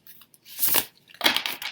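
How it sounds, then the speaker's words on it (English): Brand new tarot deck riffle shuffled twice in quick succession, each a close, crisp burst of flicking, fluttering card edges ending in a brief rattle, with no talking. "So I'm going to give it a good riffle."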